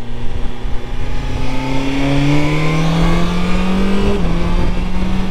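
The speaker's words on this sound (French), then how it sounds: "on est parti pour le test de ce BMW S1000 XR 2025" Loud BMW S1000 XR 2025 motorcycle engine under way while riding, a steady droning tone climbing in pitch through the gears with a brief dip near the end, continuous wind rush, no talk.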